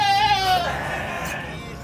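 A single goat bleats close by in a farmyard during a deworming session, one wavering, nasal cry that tapers off over a quieter background murmur.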